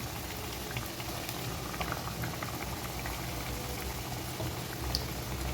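Kajada, a crisp tea-shop snack made with egg, frying in hot oil over a high flame gives a continuous, fairly quiet bubbling sizzle with scattered small pops throughout.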